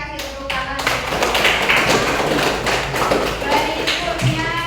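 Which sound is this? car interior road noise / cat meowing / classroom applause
classroom applause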